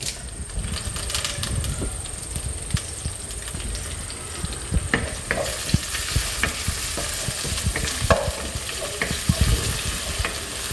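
Curry leaves sauté in hot oil for a prawn and coconut-piece roast, a steady sizzle running throughout with frequent sharp scrapes and knocks of a spatula against the pan, close and fairly loud, no voices.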